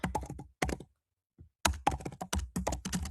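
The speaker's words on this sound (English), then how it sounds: "So if I'm typing, that's what I'm doing." Typing on a computer keyboard during a youth advisory council meeting: close bursts of rapid key taps, broken by a short pause, with no voices.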